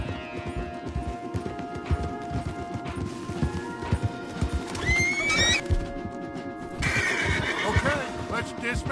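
Horses in Red Dead Redemption 2 gallop with steady clip-clop hoofbeats under a game soundtrack, breaking into loud whinnying neighs midway and again near the end, with voices talking over it.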